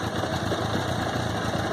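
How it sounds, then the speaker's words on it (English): A 2001 Suzuki Katana 600cc motorcycle with an aftermarket Yoshimura exhaust idles steadily with a throaty, even rumble, close by and continuous. "The exhaust sounds awesome, and I'll show you what it sounds."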